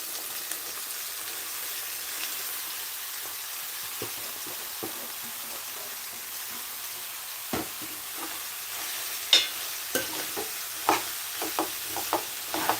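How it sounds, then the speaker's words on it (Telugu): Ridge gourd pieces being stirred in a frying pan for a curry, a soft continuous sizzle with scattered scraping spoon strokes and a few sharper clinks toward the end, no talking. "ఇలా మొత్తం కూడా కలిసేలా కలుపుకోవాలి"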